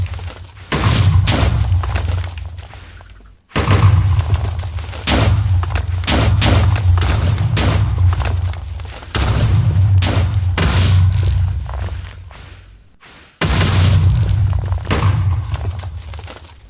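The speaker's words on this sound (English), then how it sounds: "So he can shoot through obsidian." In a video game, the Wither boss fires explosive skulls through obsidian, giving heavy booming thuds in rapid bursts, loud and close, with brief gaps between volleys.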